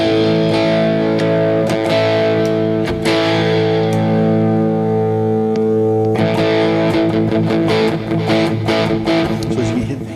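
Electric guitar played through a cheap $30 Temu multi-effects pedal set to its channel B crunch tone, sustained distorted chords ringing loudly with a few sharp restrikes and no talking.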